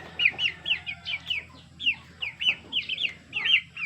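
Dong Tao chickens on a farm in Batangas clucking in quick repeated bursts, close and clear over a low background hum.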